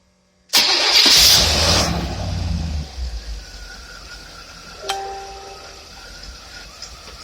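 A car engine with a worn carburetor due for rebuild cranks and catches loudly, roaring briefly before settling into a steady idle with a small bump midway.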